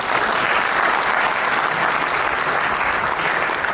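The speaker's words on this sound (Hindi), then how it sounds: "इनके लिए जोरदार तालियां" Loud, dense applause fills a hall, a steady wash of many hands clapping together without a break and with no talk over it.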